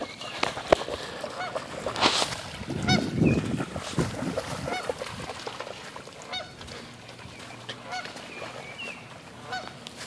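Canada geese honk and squawk repeatedly on Pike Island, a loud cluster of harsh calls early on followed by scattered, fainter squawks over outdoor background noise.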